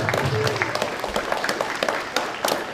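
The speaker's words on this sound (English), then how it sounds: "can we make sure we give our athletes another round of applause for doing such a wonderful job this year" An audience applauding wrestling athletes at an awards ceremony, scattered clapping with distinct individual claps that rise and fall unevenly in a room.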